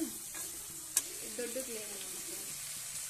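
Mutton head is stirred in a frying pan, with a soft, steady sizzle under occasional scraping and one sharp clink of the spoon against the pan. The sound is quiet and close.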